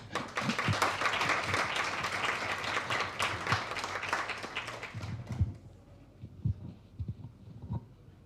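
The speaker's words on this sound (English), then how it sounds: "Dr. McLean, please, a round of applause." A crowd at a roundtable and book launch during Kenya Innovation Week claps steadily for several seconds, then the clapping fades and scattered taps and thumps remain.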